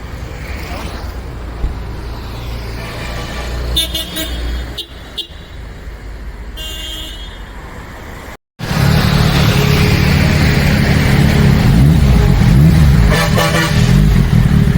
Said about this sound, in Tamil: வண்டி செம சவுண்டு, செமையாக இருந்தது